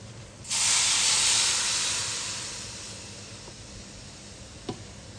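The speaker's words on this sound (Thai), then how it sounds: "จากนั้นเราก็จะมาผัดข้าวเม่ากันค่ะ" Khao mao being stir-fried with sugar and coconut milk gives a loud hissing sizzle that bursts in near the start, then slowly fades to a softer steady fizz, with a small clink near the end.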